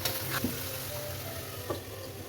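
Chicken pieces fry in spiced oil in a pan, giving a quiet, steady sizzle with a few soft clicks and stirring taps, and no talk.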